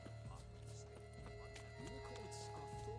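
In The Witcher 3: Wild Hunt, a unicorn clip-clops on its hooves and gives a neigh, quiet and set against steady low game ambience, with a person talking over it.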